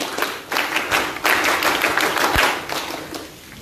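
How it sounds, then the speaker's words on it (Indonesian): A Pramuka scout group in Indonesia performs its patterned group clap, a run of sharp, rhythmic hand claps with brief pauses between bursts. The claps sound fairly close and carry steadily throughout. "Tepuk pramuka."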